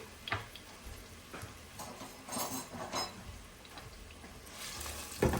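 Sweet peppers sauteing in a pan make a steady, fairly faint sizzle with occasional ticks and clinks of stirring throughout.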